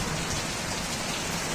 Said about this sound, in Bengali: তীব্র গতিতে ঝড় সহ বৃষ্টিপাত হচ্ছে বাইরে